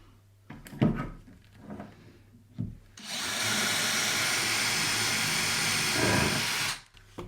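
A power drill bores through wood while building a mitre saw stand, first in a few short bursts, then in one steady run of about four seconds that stops abruptly, with no one talking.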